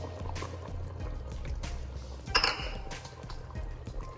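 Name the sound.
okra being poured into a pot of keto curried seafood soup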